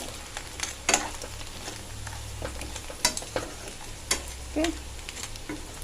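Crabs marinated in salt, masala and chili sizzle steadily in a pan while being stirred, with occasional spatula scrapes and clatters over the constant frying hiss; a voice briefly speaks.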